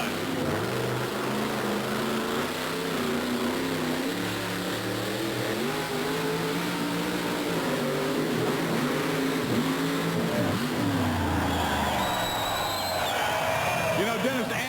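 The Grave Digger monster truck on a qualifying run at a 1990 Myrtle Beach event, its engine roaring and revving loudly throughout under an announcer's commentary, with a higher whine near the end.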